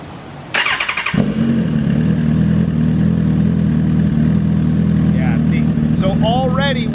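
A 2008 Suzuki GSX-R 1000 with a fueling issue cranks and starts on a dyno. It settles into a loud, steady idle with a low hum, and some faint squeaks or chirps come in near the end.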